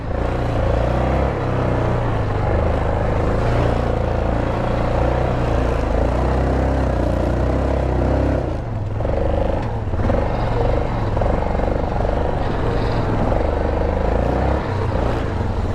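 Yamaha Grizzly 660 ATV engine bogging and labouring through mud, a loud, steady close-up drone that dips briefly midway before straining on without pause.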